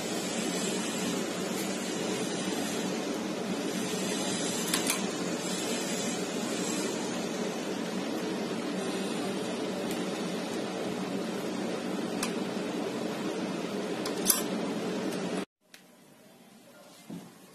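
A sewing machine motor runs in a steady, continuous whir while stitching a designer bow sleeve, then cuts off abruptly near the end, leaving faint room sound.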